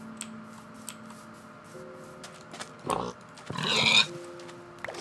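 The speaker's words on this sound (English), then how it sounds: "Silly pig, you can't swim." A pig oinks in a video game, a couple of short grunting bursts near the middle and end, fairly close over faint game ambience, with no one speaking.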